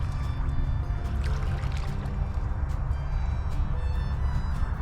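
Someone in rubber waders wading into chilly water while setting beaver traps, with continuous close sloshing and splashing of water around the legs and no speech.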